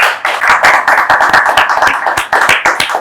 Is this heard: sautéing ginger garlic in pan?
no